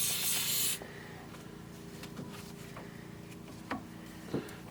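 Silicone lubricant sprayed onto a urethane steering rack bush on a Subaru: one close, loud hissing burst that stops abruptly, followed by faint handling clicks and knocks.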